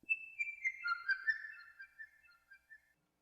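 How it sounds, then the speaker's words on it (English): A whistle-like synth tone from the Monarch kit in Magnetic Coast plays a short melodic phrase of bright, wavering pitched notes, clear and isolated, fading out near the end. "It's a Monarch sound, and it sounds really dope. It's kind of like a whistle."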